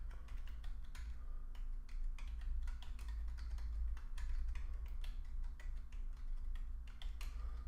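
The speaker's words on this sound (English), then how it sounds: "So I'm just typing this information in here." Rapid, uneven keyboard typing clatters on continuously over a low hum, with key clicks in quick bursts and short pauses.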